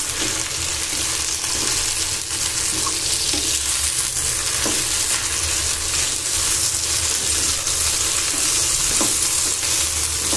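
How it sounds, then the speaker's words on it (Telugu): Gongura leaves frying in oil in a pan for a preserved gongura pickle, giving a loud, continuous close sizzle with occasional soft stirring clicks and no talk. "ఇలా ఆయిల్లోనే బాగా మగ్గించాలి."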